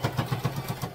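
A sewing machine stitches satin binding down on a spooky-themed skirt, its motor running in a steady rhythmic chug with evenly spaced pulses about every seven hundredths of a second, close and moderately loud with no talking.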